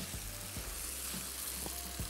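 Penne pasta with mozzarella cheese stirred and frying in a pan, a steady close sizzle with soft scraping stir strokes repeating throughout.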